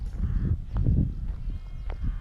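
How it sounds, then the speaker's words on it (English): Sheep bleat near a walker on a long-distance trail in northern England, outside Dufton. A couple of short calls stand out over a rough outdoor rumble. "Yeah, I get it, you're a sheep."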